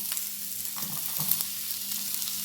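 Onions frying in hot oil for home cooking, a steady, moderately loud sizzle with a few soft thuds and bubbling bursts in the middle, heard alone without voices.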